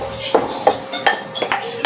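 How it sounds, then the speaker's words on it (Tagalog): Food stirred in a cooking pot for linagpang nga puso, a spoon striking and scraping the metal in a steady run of about six sharp clinks, close and fairly loud, without speech. "Haluin ko lang muna."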